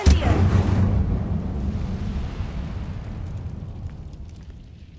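An Incendio fire spell bursts in the Hogwarts Legacy video game with a sudden loud, booming blast that decays into a long fading rumble, with no voices over it.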